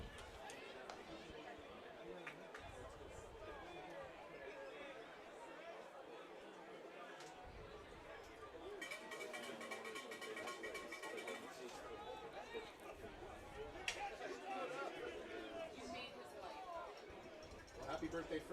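A baseball stadium crowd murmurs and chatters steadily in the background, with a brief swell of noise partway through, under clear talk throughout.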